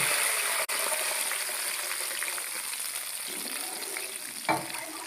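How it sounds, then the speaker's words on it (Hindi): Jaggery syrup is poured into cooking rice in a hot pot, with whole spices such as black cardamom, cloves and fennel. It gives a loud, steady sizzling hiss that carries on throughout, with no talk. "तो अब मैं इसके अंदर ये शीरा डाल दूँगा"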